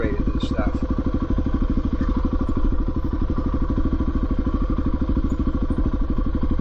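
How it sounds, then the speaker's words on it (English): A Honda XR400 motorcycle plunks slowly up a steep dirt trail at barely above idle, its engine a loud, steady low thumping pulse with occasional clatter, close to the rider's microphone. "I'm going really slow here, plunking along and making my way through at barely more than an idle."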